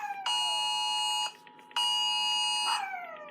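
An emergency alert tone warns of sporadic 911 outages. It plays as two long, loud, steady electronic tones with a brief gap between them, and no voices are heard.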